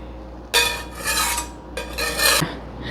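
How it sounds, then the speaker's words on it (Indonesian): A metal utensil scrapes and clanks against a wok in two harsh bursts of rasping, clattering noise, close and loud, with a quiet pause between them. "Kekurangannya wajan ini tuh kalau buat masak itu berisik ya, suaranya gerombeng-gerombeng kayak gitu."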